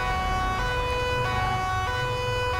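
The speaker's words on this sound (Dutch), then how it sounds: "Ik zet even de sirene aan" A police siren wails continuously from a police car driving through the city in GTA 5, loud and close, with a steady multi-tone blare over engine rumble.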